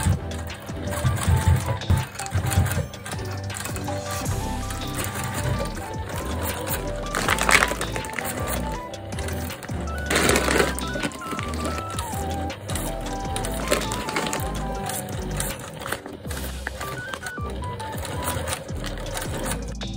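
A sewing machine stitches an IKEA blue bag onto a garment, running in steady mechanical bursts of rapid needle clatter close by, broken by brief pauses and handling noise.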